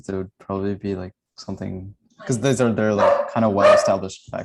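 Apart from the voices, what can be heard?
dog barking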